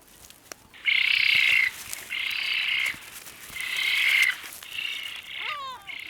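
Spoonbills and seagulls at a breeding colony in Dutch wetland, with loud, harsh repeated calls in bursts of about a second, separated by short pauses, and a rising squawk near the end, all close by.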